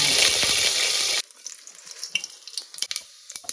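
Whole spices hit hot ghee and sunflower oil in a cooker with a loud, dense sizzle for about a second, then it drops to quieter scattered crackles and pops.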